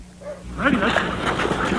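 Sled dogs at a Denali National Park kennel bark, whine and yip together at close range, with a voice talking over them.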